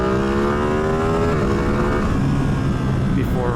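A Ducati Streetfighter V2 motorcycle engine revs hard and continuously at high rpm, its pitch climbing, briefly dipping, then climbing again, with heavy wind rush mixed in.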